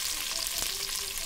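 Vegetables for a vegetable biryani frying in a pan, giving a steady close hiss of sizzling oil with a faint stir or scrape in the middle, no talking.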